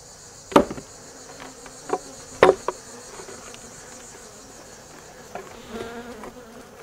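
A faint, steady buzz of honeybees around a hive box during a small swarm, with several sharp knocks and taps close by.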